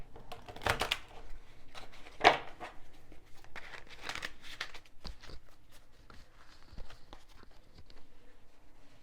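Oversized tarot cards are shuffled by hand close by, soft irregular slaps and papery rustles in short bursts, louder at first then quieter.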